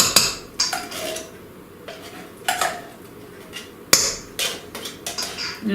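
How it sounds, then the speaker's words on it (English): A spoon scrapes and clinks against a can and bowl while canned Libby's pumpkin pie mix is scooped out, giving several sharp metallic knocks at irregular intervals with soft scraping between, close by. "So we are going to spoon that right into the bowl"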